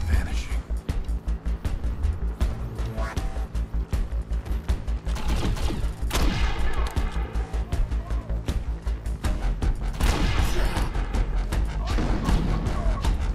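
Gunfire in the shooter video game Defiance sounds as rapid, repeated bursts of shots over a dense game soundtrack, steady and loud throughout, with a voice talking underneath.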